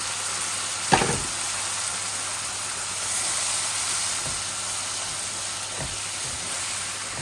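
Onions and spices fry in a pan with a steady, soft hiss and sizzle throughout, with a few faint knocks of utensils, fairly quiet and without talking.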